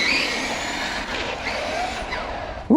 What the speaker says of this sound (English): And this time we're going to hit the brake first.